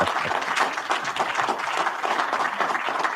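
Studio audience clapping at a sports talk show about the Chicago Bears coach, a dense burst of applause from a modest crowd, steady and fairly close for a few seconds, with no speech over it.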